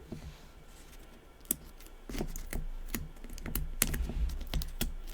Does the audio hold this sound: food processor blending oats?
no